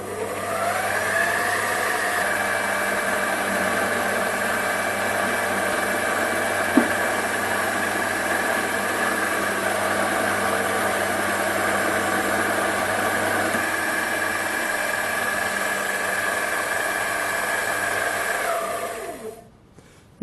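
A Sumore SP2102 7x12 mini lathe turns lubricated aluminium at 600 RPM, giving a steady, close motor whine and hum that holds evenly for almost twenty seconds before spinning down and stopping at the end.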